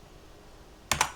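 Two quick key presses on a computer keyboard, close and crisp, after a near-silent pause.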